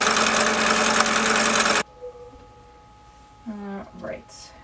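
Sewing machine stitching quilt block units together for a flag quilt block, a loud, steady mechanical whir that stops abruptly, followed by quiet room tone and a brief bit of talking.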